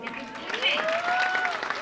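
Crowd applause greets a beauty queen parading for Jutiapenses Unidos in California, steady clapping rising under voices and a few sustained tonal lines.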